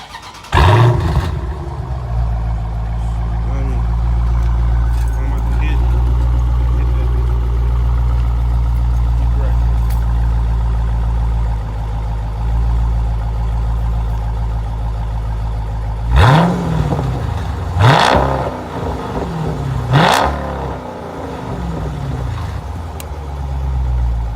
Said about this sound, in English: Second thing is the sound, like the whole sound, the engine.